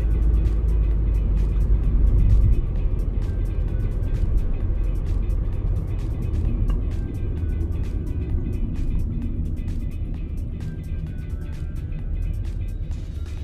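Steady rumble of early-morning road traffic in Chicago, with cars passing close by, a continuous low engine drone that swells and eases, no voices.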